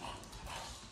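A short, faint bark or yip from a puppy somewhere inside a three-bedroom house, heard once during a brief moment with no talking.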